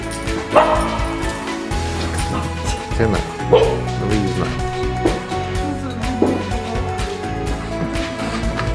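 Several dogs yip and whimper in short excited bursts, with occasional louder barks over a busy background and some talking.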